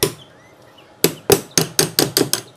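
A hammer taps the clamp on a washing machine's dryer door rubber seal: one sharp knock, a pause, then seven quick metallic taps in a steady rhythm, close and loud.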